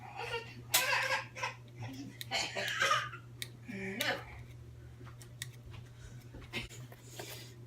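Scissors snip through fleece fabric for a Christmas craft, with a run of crisp, irregular cuts close by and faint voices and a steady low hum in the background.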